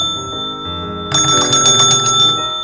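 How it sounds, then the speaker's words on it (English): A bell rung close by in a quick burst of several bright, ringing strikes that follows a quieter stretch of background tones. "Do you want to ring my bell?"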